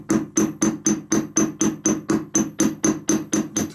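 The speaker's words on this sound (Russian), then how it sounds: "Дальше молоточком немножко подплющим его" A small hammer flattens wire, tapping metal about a dozen times in a steady, even rhythm, each strike sharp and close.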